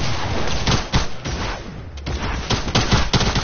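Rapid gunfire in a multiplayer shooter game, with dense bursts of shots and booms crowding together, then a short lull before more volleys crack out, loud and close.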